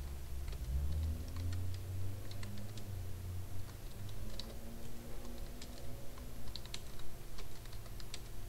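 Slow one-handed typing on a computer keyboard, scattered irregular key clicks close by over a low steady hum, with no talking.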